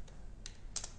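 A few separate clicks of typing on a computer keyboard, close and fairly quiet, with short gaps between the keystrokes and no talk.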